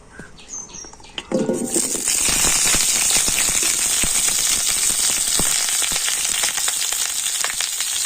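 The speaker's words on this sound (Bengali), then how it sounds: "এই আলুটা এখন আমি তেলের উপর দিয়ে দিচ্ছি" Cut potato pieces hit hot oil in a pan and burst into a loud, sustained sizzle and crackle that holds steady to the end after a quieter opening.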